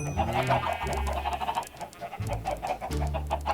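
Chickens cluck and squawk in the Minecraft video game, a few close, bright bursts of fowl calls separated by short gaps, clear and moderately loud.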